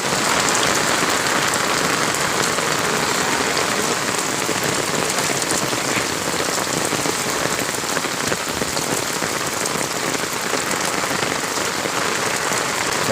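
Heavy rain pours down on farmland in a dense, unbroken roar of drops striking surfaces, loud and close throughout with no voices or pauses.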